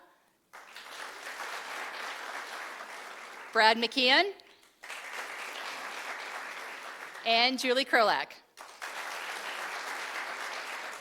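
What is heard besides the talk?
applause for city staff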